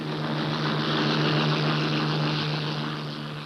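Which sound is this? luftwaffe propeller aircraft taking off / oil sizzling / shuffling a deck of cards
luftwaffe propeller aircraft taking off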